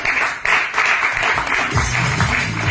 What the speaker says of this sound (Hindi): तो उनके लिए जोर से तालियां है।